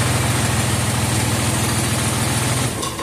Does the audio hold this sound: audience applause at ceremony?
no